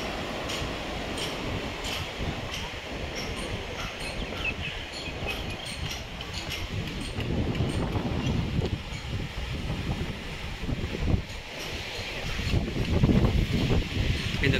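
Strong seaside wind sweeps over the 400-year-old Danish fort at Tharangambadi above the beach, a continuous rumbling roar that buffets the microphone and surges louder toward the end.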